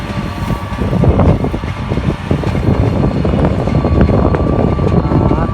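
A tractor engine running on a large sugarcane farm where leaf balers work, a loud, steady mechanical drone that fills the whole stretch without a break.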